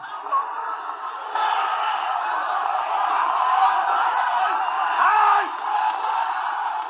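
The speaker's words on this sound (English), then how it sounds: "At 11:58, protesters face off against armed police." A crowd of protesters at the gates of Nepal's parliament facing armed police, a dense continuous roar of shouting and yelling voices with occasional louder whoops, heard outdoors at close range.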